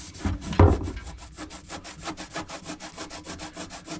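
A rag soaked in anti-silicone cleaner is rubbed hard over a race car panel in fast, rhythmic back-and-forth strokes. The scrubbing is close and loud, with a heavier stroke near the start.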